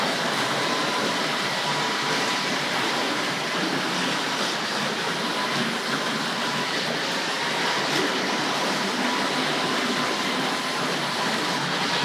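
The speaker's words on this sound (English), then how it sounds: "You can hear those knurled wheels really biting at the track." Tri-ang model trains with knurled wheels run along the track, Tri-ang Hornby Flying Scotsman and a double-ended diesel among them, giving a continuous close rushing rattle and grind that holds at an even level throughout.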